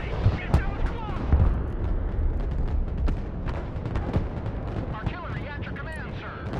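Artillery in the game Broken Arrow pounds away in a dense, continuous battle mix of booming shots, crackling gunfire and blasts, with voices calling out over the din.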